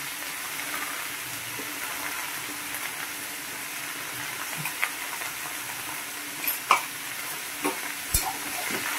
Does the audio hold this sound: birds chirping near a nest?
no